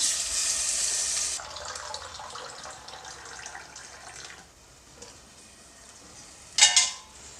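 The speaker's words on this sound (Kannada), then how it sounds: "ಒಂದು ಗ್ಲಾಸಷ್ಟು ನೀರು ಹಾಕ್ಕೊಳ್ತಾ ಇದ್ದೀನಿ" Water pours in a strong, bright stream into a pot of drumsticks for cooking, for a second or so, then fades to quiet clatter, with a short splash near the end.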